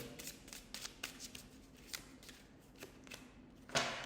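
Soft, close riffling and slapping of tarot cards being shuffled, repeated in quick bursts with a sharper riffle near the end, quiet overall.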